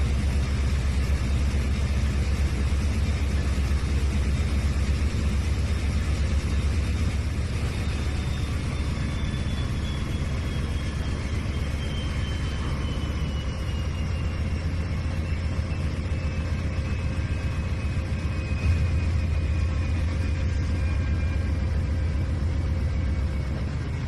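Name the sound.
train engine motoring in Trainz 2019 video game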